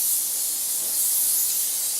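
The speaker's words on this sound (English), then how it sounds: "I've got the baking tray, and I'm going to spray on some spray on olive oil." A steady, continuous hiss of an olive oil aerosol cooking spray being sprayed onto a baking tray, close up and even for about two seconds.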